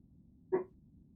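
A dog gives one short bark in the colony-building game RimWorld, a single brief yelp in the middle of an otherwise quiet stretch with faint background hum.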